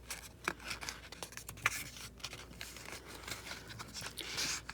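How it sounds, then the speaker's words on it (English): Paper being folded in half to make flashcards, with soft crinkling, rubbing creases and light crisp rustles scattered over a few seconds, close and fairly quiet with no talking. "We're going to fold it in half going this way."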